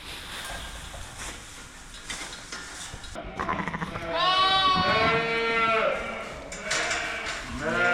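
Sheep on a farm during lambing season bleat repeatedly, several loud, wavering calls close by, some overlapping, over faint background sound and possible murmured talk.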